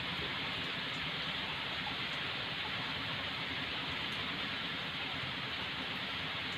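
Steady rain falls at an outdoor tilapia fish-cage farm, making a dense, even hiss of drops that stays constant and fairly close throughout, with no voices over it.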